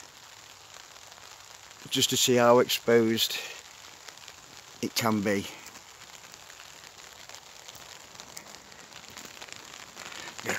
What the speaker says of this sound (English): It started to rain now.